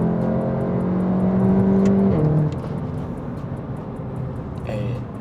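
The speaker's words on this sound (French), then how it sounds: "On va faire pour le plaisir, frérot, une petite accélération." A footballer's car accelerates hard nearby, its engine note climbing in a loud rising drone before the revs drop suddenly and the motor settles into a steadier, quieter run.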